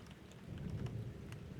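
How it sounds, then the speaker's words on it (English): Steady rain falls with low rumbling thunder rolling beneath it, a dense, even wash of sound with no voices. "I will guard your slumber as the rain sings its ancient lullaby outside."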